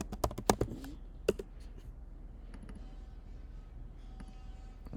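Fast, close typing on a computer keyboard, a quick burst of sharp key clicks at first, then sparser, softer taps trailing off over a faint room hiss.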